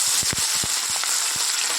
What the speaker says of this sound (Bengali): চলো মাছগুলো এবার ভাজি।